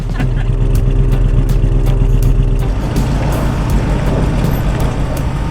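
A vintage RV engine runs loud and close just after a hard start, with a deep rumbling idle that turns rougher partway through, and a faint voice sits under it.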